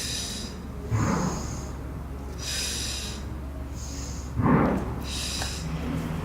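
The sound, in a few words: heavy breathing during overhead squat workout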